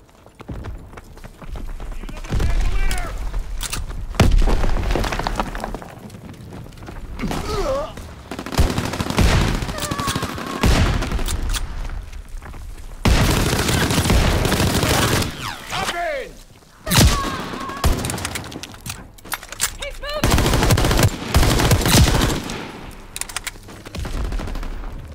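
Dense bursts of automatic weapon fire and scattered single shots in a Call of Duty WWII battle, loud and repeated in clusters across the whole stretch, with shouted game voices and thuds mixed in.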